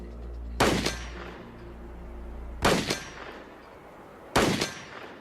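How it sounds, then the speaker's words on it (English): Three sharp, loud gunshots fired through a chronograph, spaced about two seconds apart, each a hard crack with a brief ringing decay over a low background hum. "Let's put a couple rounds through here and we'll see how fast this ammo goes"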